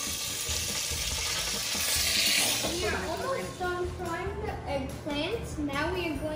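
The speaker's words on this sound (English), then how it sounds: "We're almost done frying the eggplants." Eggplant slices frying in a pan give a loud, continuous hiss and sizzle, strongest early on, while people talk over it in the second half.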